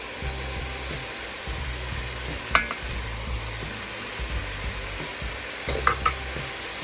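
Celery, salt and pepper are stirred in a pot for minestrone, with a spoon scraping in uneven strokes over a constant loud sizzle and two sharper clinks against the pot.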